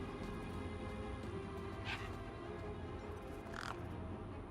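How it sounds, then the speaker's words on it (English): Crows cawing in the video game Beyond a Steel Sky, two brief, fairly faint caws over a dense, constant ambient backdrop. "This particular spot seemed popular with the local birds."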